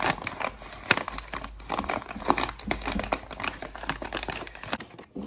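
Close crinkling and rustling of paper as a thank-you card is folded for an eBay package, with quick soft crackles and creases scattered across a few seconds.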